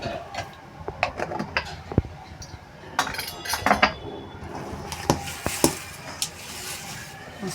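A spoon clinks and scrapes against a metal bowl while fulvadi batter is mixed with salt, producing irregular, close taps and clatters with soft stirring in between.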